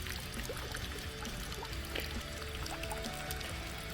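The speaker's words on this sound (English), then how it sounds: "we don't want to let this lovely chicken blood go to waste. So we're just going to pour that" Chicken blood poured out down the side of an outdoor spot, a steady liquid trickle and splash continuing throughout at moderate level over a busy background with no talking.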